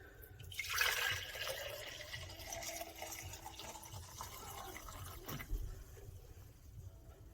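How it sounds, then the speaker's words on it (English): Homemade bone broth poured into a container, a soft liquid splash and trickle at moderate level, steady through the pour with a brief louder gush near the end. "All right, so I have my container, and I will just pour that in"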